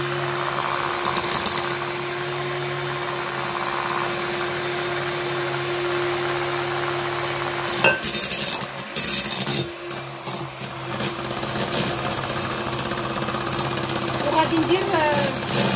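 An electric mixer beats cake batter of whipped eggs and sugar as oil is added slowly, a steady, loud motor whir that dips and stutters midway, with a voice speaking over it.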